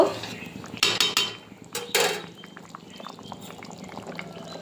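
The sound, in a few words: pot of chicken curry being taken off the stove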